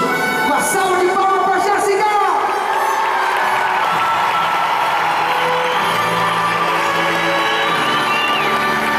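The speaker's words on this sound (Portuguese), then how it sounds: "Uma salva de palmas." A large audience at a live event in an indoor gymnasium in São Paulo cheers, whoops and applauds loudly, with the roar peaking early and then settling into sustained crowd noise as voices carry over it.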